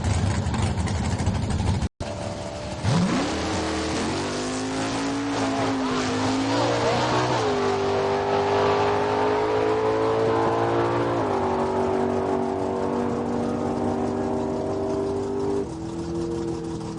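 A naturally aspirated Pro Street 1968 Chevy Camaro and a small-block power-adder Chevy Corvette launch down a drag strip, engines roaring loud and rising through gear changes over a sustained run, with no talk.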